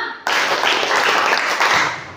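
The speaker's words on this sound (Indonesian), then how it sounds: "yuk kita tepuk 1, tepuk 2, tepuk 3, tepuk 4, tepuk 5" A burst of many hands clapping together, dense and loud, starting abruptly and continuing steadily as a group applause-like patter.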